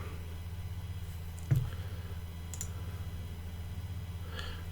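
A single sharp computer mouse click stands out over a steady low electrical hum, with a couple of fainter clicks later, close and otherwise quiet.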